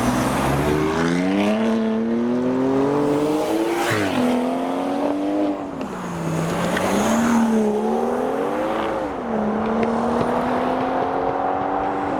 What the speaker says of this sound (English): There's a car revving down here.